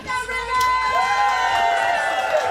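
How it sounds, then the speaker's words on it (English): A crowd packed into a lobby for a welding school's grand opening in Irving, Texas cheers and whoops, with excited voices and shouts blending into a lively din. "A crowd packed the lobby to celebrate the grand opening."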